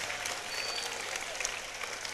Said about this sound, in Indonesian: tepuk tangan dulu adik-adik SD ya